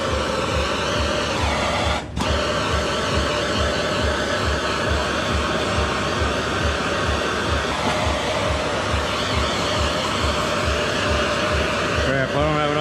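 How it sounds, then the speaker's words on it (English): Propane torch roaring loud and steady as it preheats a steel base metal for brazing stainless to steel, one unbroken broadband hiss with a brief dip near the start. "I'm also gonna preheat the base metal here with a propane torch."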